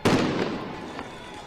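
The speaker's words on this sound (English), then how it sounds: "what are the explosions?" A sharp blast rings out amid a chaotic street riot, a loud bang followed by a rumbling, crackling decay with a fainter pop about a second later, against noisy crowd ambience.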